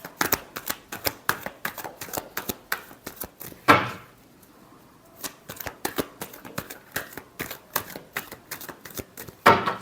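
A deck of tarot cards is shuffled repeatedly up close, giving rapid crisp riffling flicks in quick bursts, with a short pause and a sharper riffle partway through.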